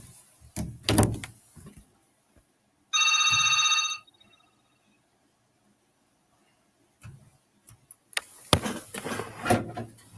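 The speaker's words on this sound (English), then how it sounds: "Munyamba, seems like we have a phone call." An incoming telephone call rings once as a steady electronic burst of about a second, alone in a quiet room, with scattered knocks and handling noises before and after.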